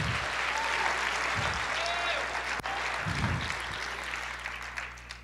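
A church congregation applauding steadily across the whole stretch, a dense wash of clapping with bursts of low rumble and a voice faintly underneath.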